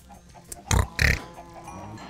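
Pigs in a farming video game let out two short, loud grunting oinks in quick succession, with quieter background ambience between and after them.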